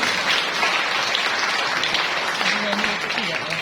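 A church congregation claps together at a worship service, a full, sustained burst of applause that fills the room and keeps an even intensity for a few seconds.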